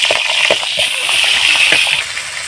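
Fish heads sputter in hot oil for a curry with potatoes, giving a loud, dense hiss with a few sharp pops close at hand.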